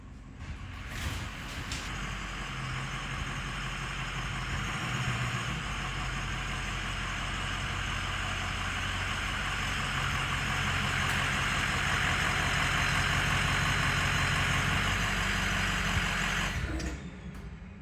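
A Ford Super Duty pickup's engine idles steadily at close range, a constant low rumble that runs for nearly the whole stretch and stops near the end, with no talking over it.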